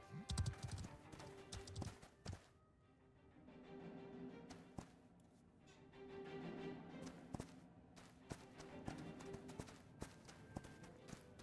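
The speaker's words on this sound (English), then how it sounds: "I'm just riding on my horse" Horse hooves clip-clop steadily while riding a horse in the video game Ashes of Creation, a running gait over game ambience, with scattered louder thumps and brief pauses.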